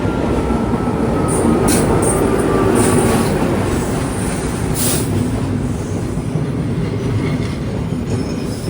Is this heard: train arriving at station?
yes